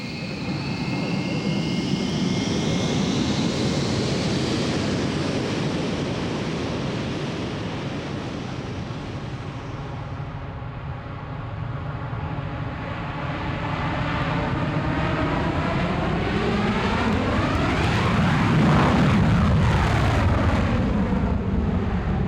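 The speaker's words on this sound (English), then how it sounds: "The B-1 has 4 General Electric engines on it." A B-1B Lancer bomber's four General Electric jet engines roar loudly, a broad jet rush that swells and shifts as the aircraft passes, with a rising-then-falling whine near the end.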